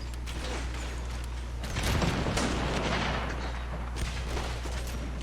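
Booming cannon fire and scattered battle blasts in Empire: Total War roll over a constant low rumble, with a heavier volley building midway.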